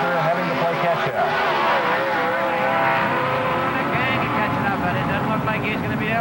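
A dragster and a car roar down the strip at a 1979 NHRA drag race in Edmonton. The engines rise as they accelerate under constant, loud crowd-and-engine noise, with a commentator talking over it.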